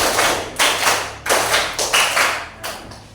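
A class of students claps in unison on a teacher's instruction, keeping a counted rhythm pattern: a series of sharp, evenly spaced group claps, each a crisp burst that fades quickly, with no talking in between.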